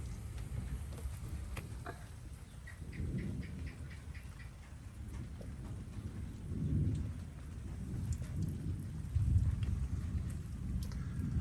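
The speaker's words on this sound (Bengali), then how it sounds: "চটপটে বৃষ্টি আসলে" Sudden heavy rain with thunder, a continuous wash of rainfall with several deep, rolling rumbles swelling at intervals, fairly faint and with no voices.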